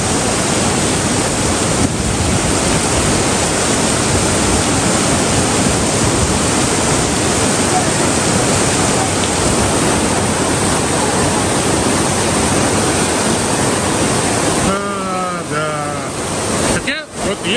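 Typhoon wind and heavy rain lash the Antalya coast in Turkey, a loud, unbroken roar of gusts and downpour battering the microphone, with a brief lull and some wind buffeting near the end.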